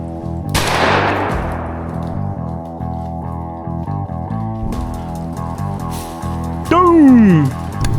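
A single sharp gunshot cracks out during a squirrel hunt, decaying quickly, followed by quieter rustling and a later whooshing sweep in the woods; no talk during the shot.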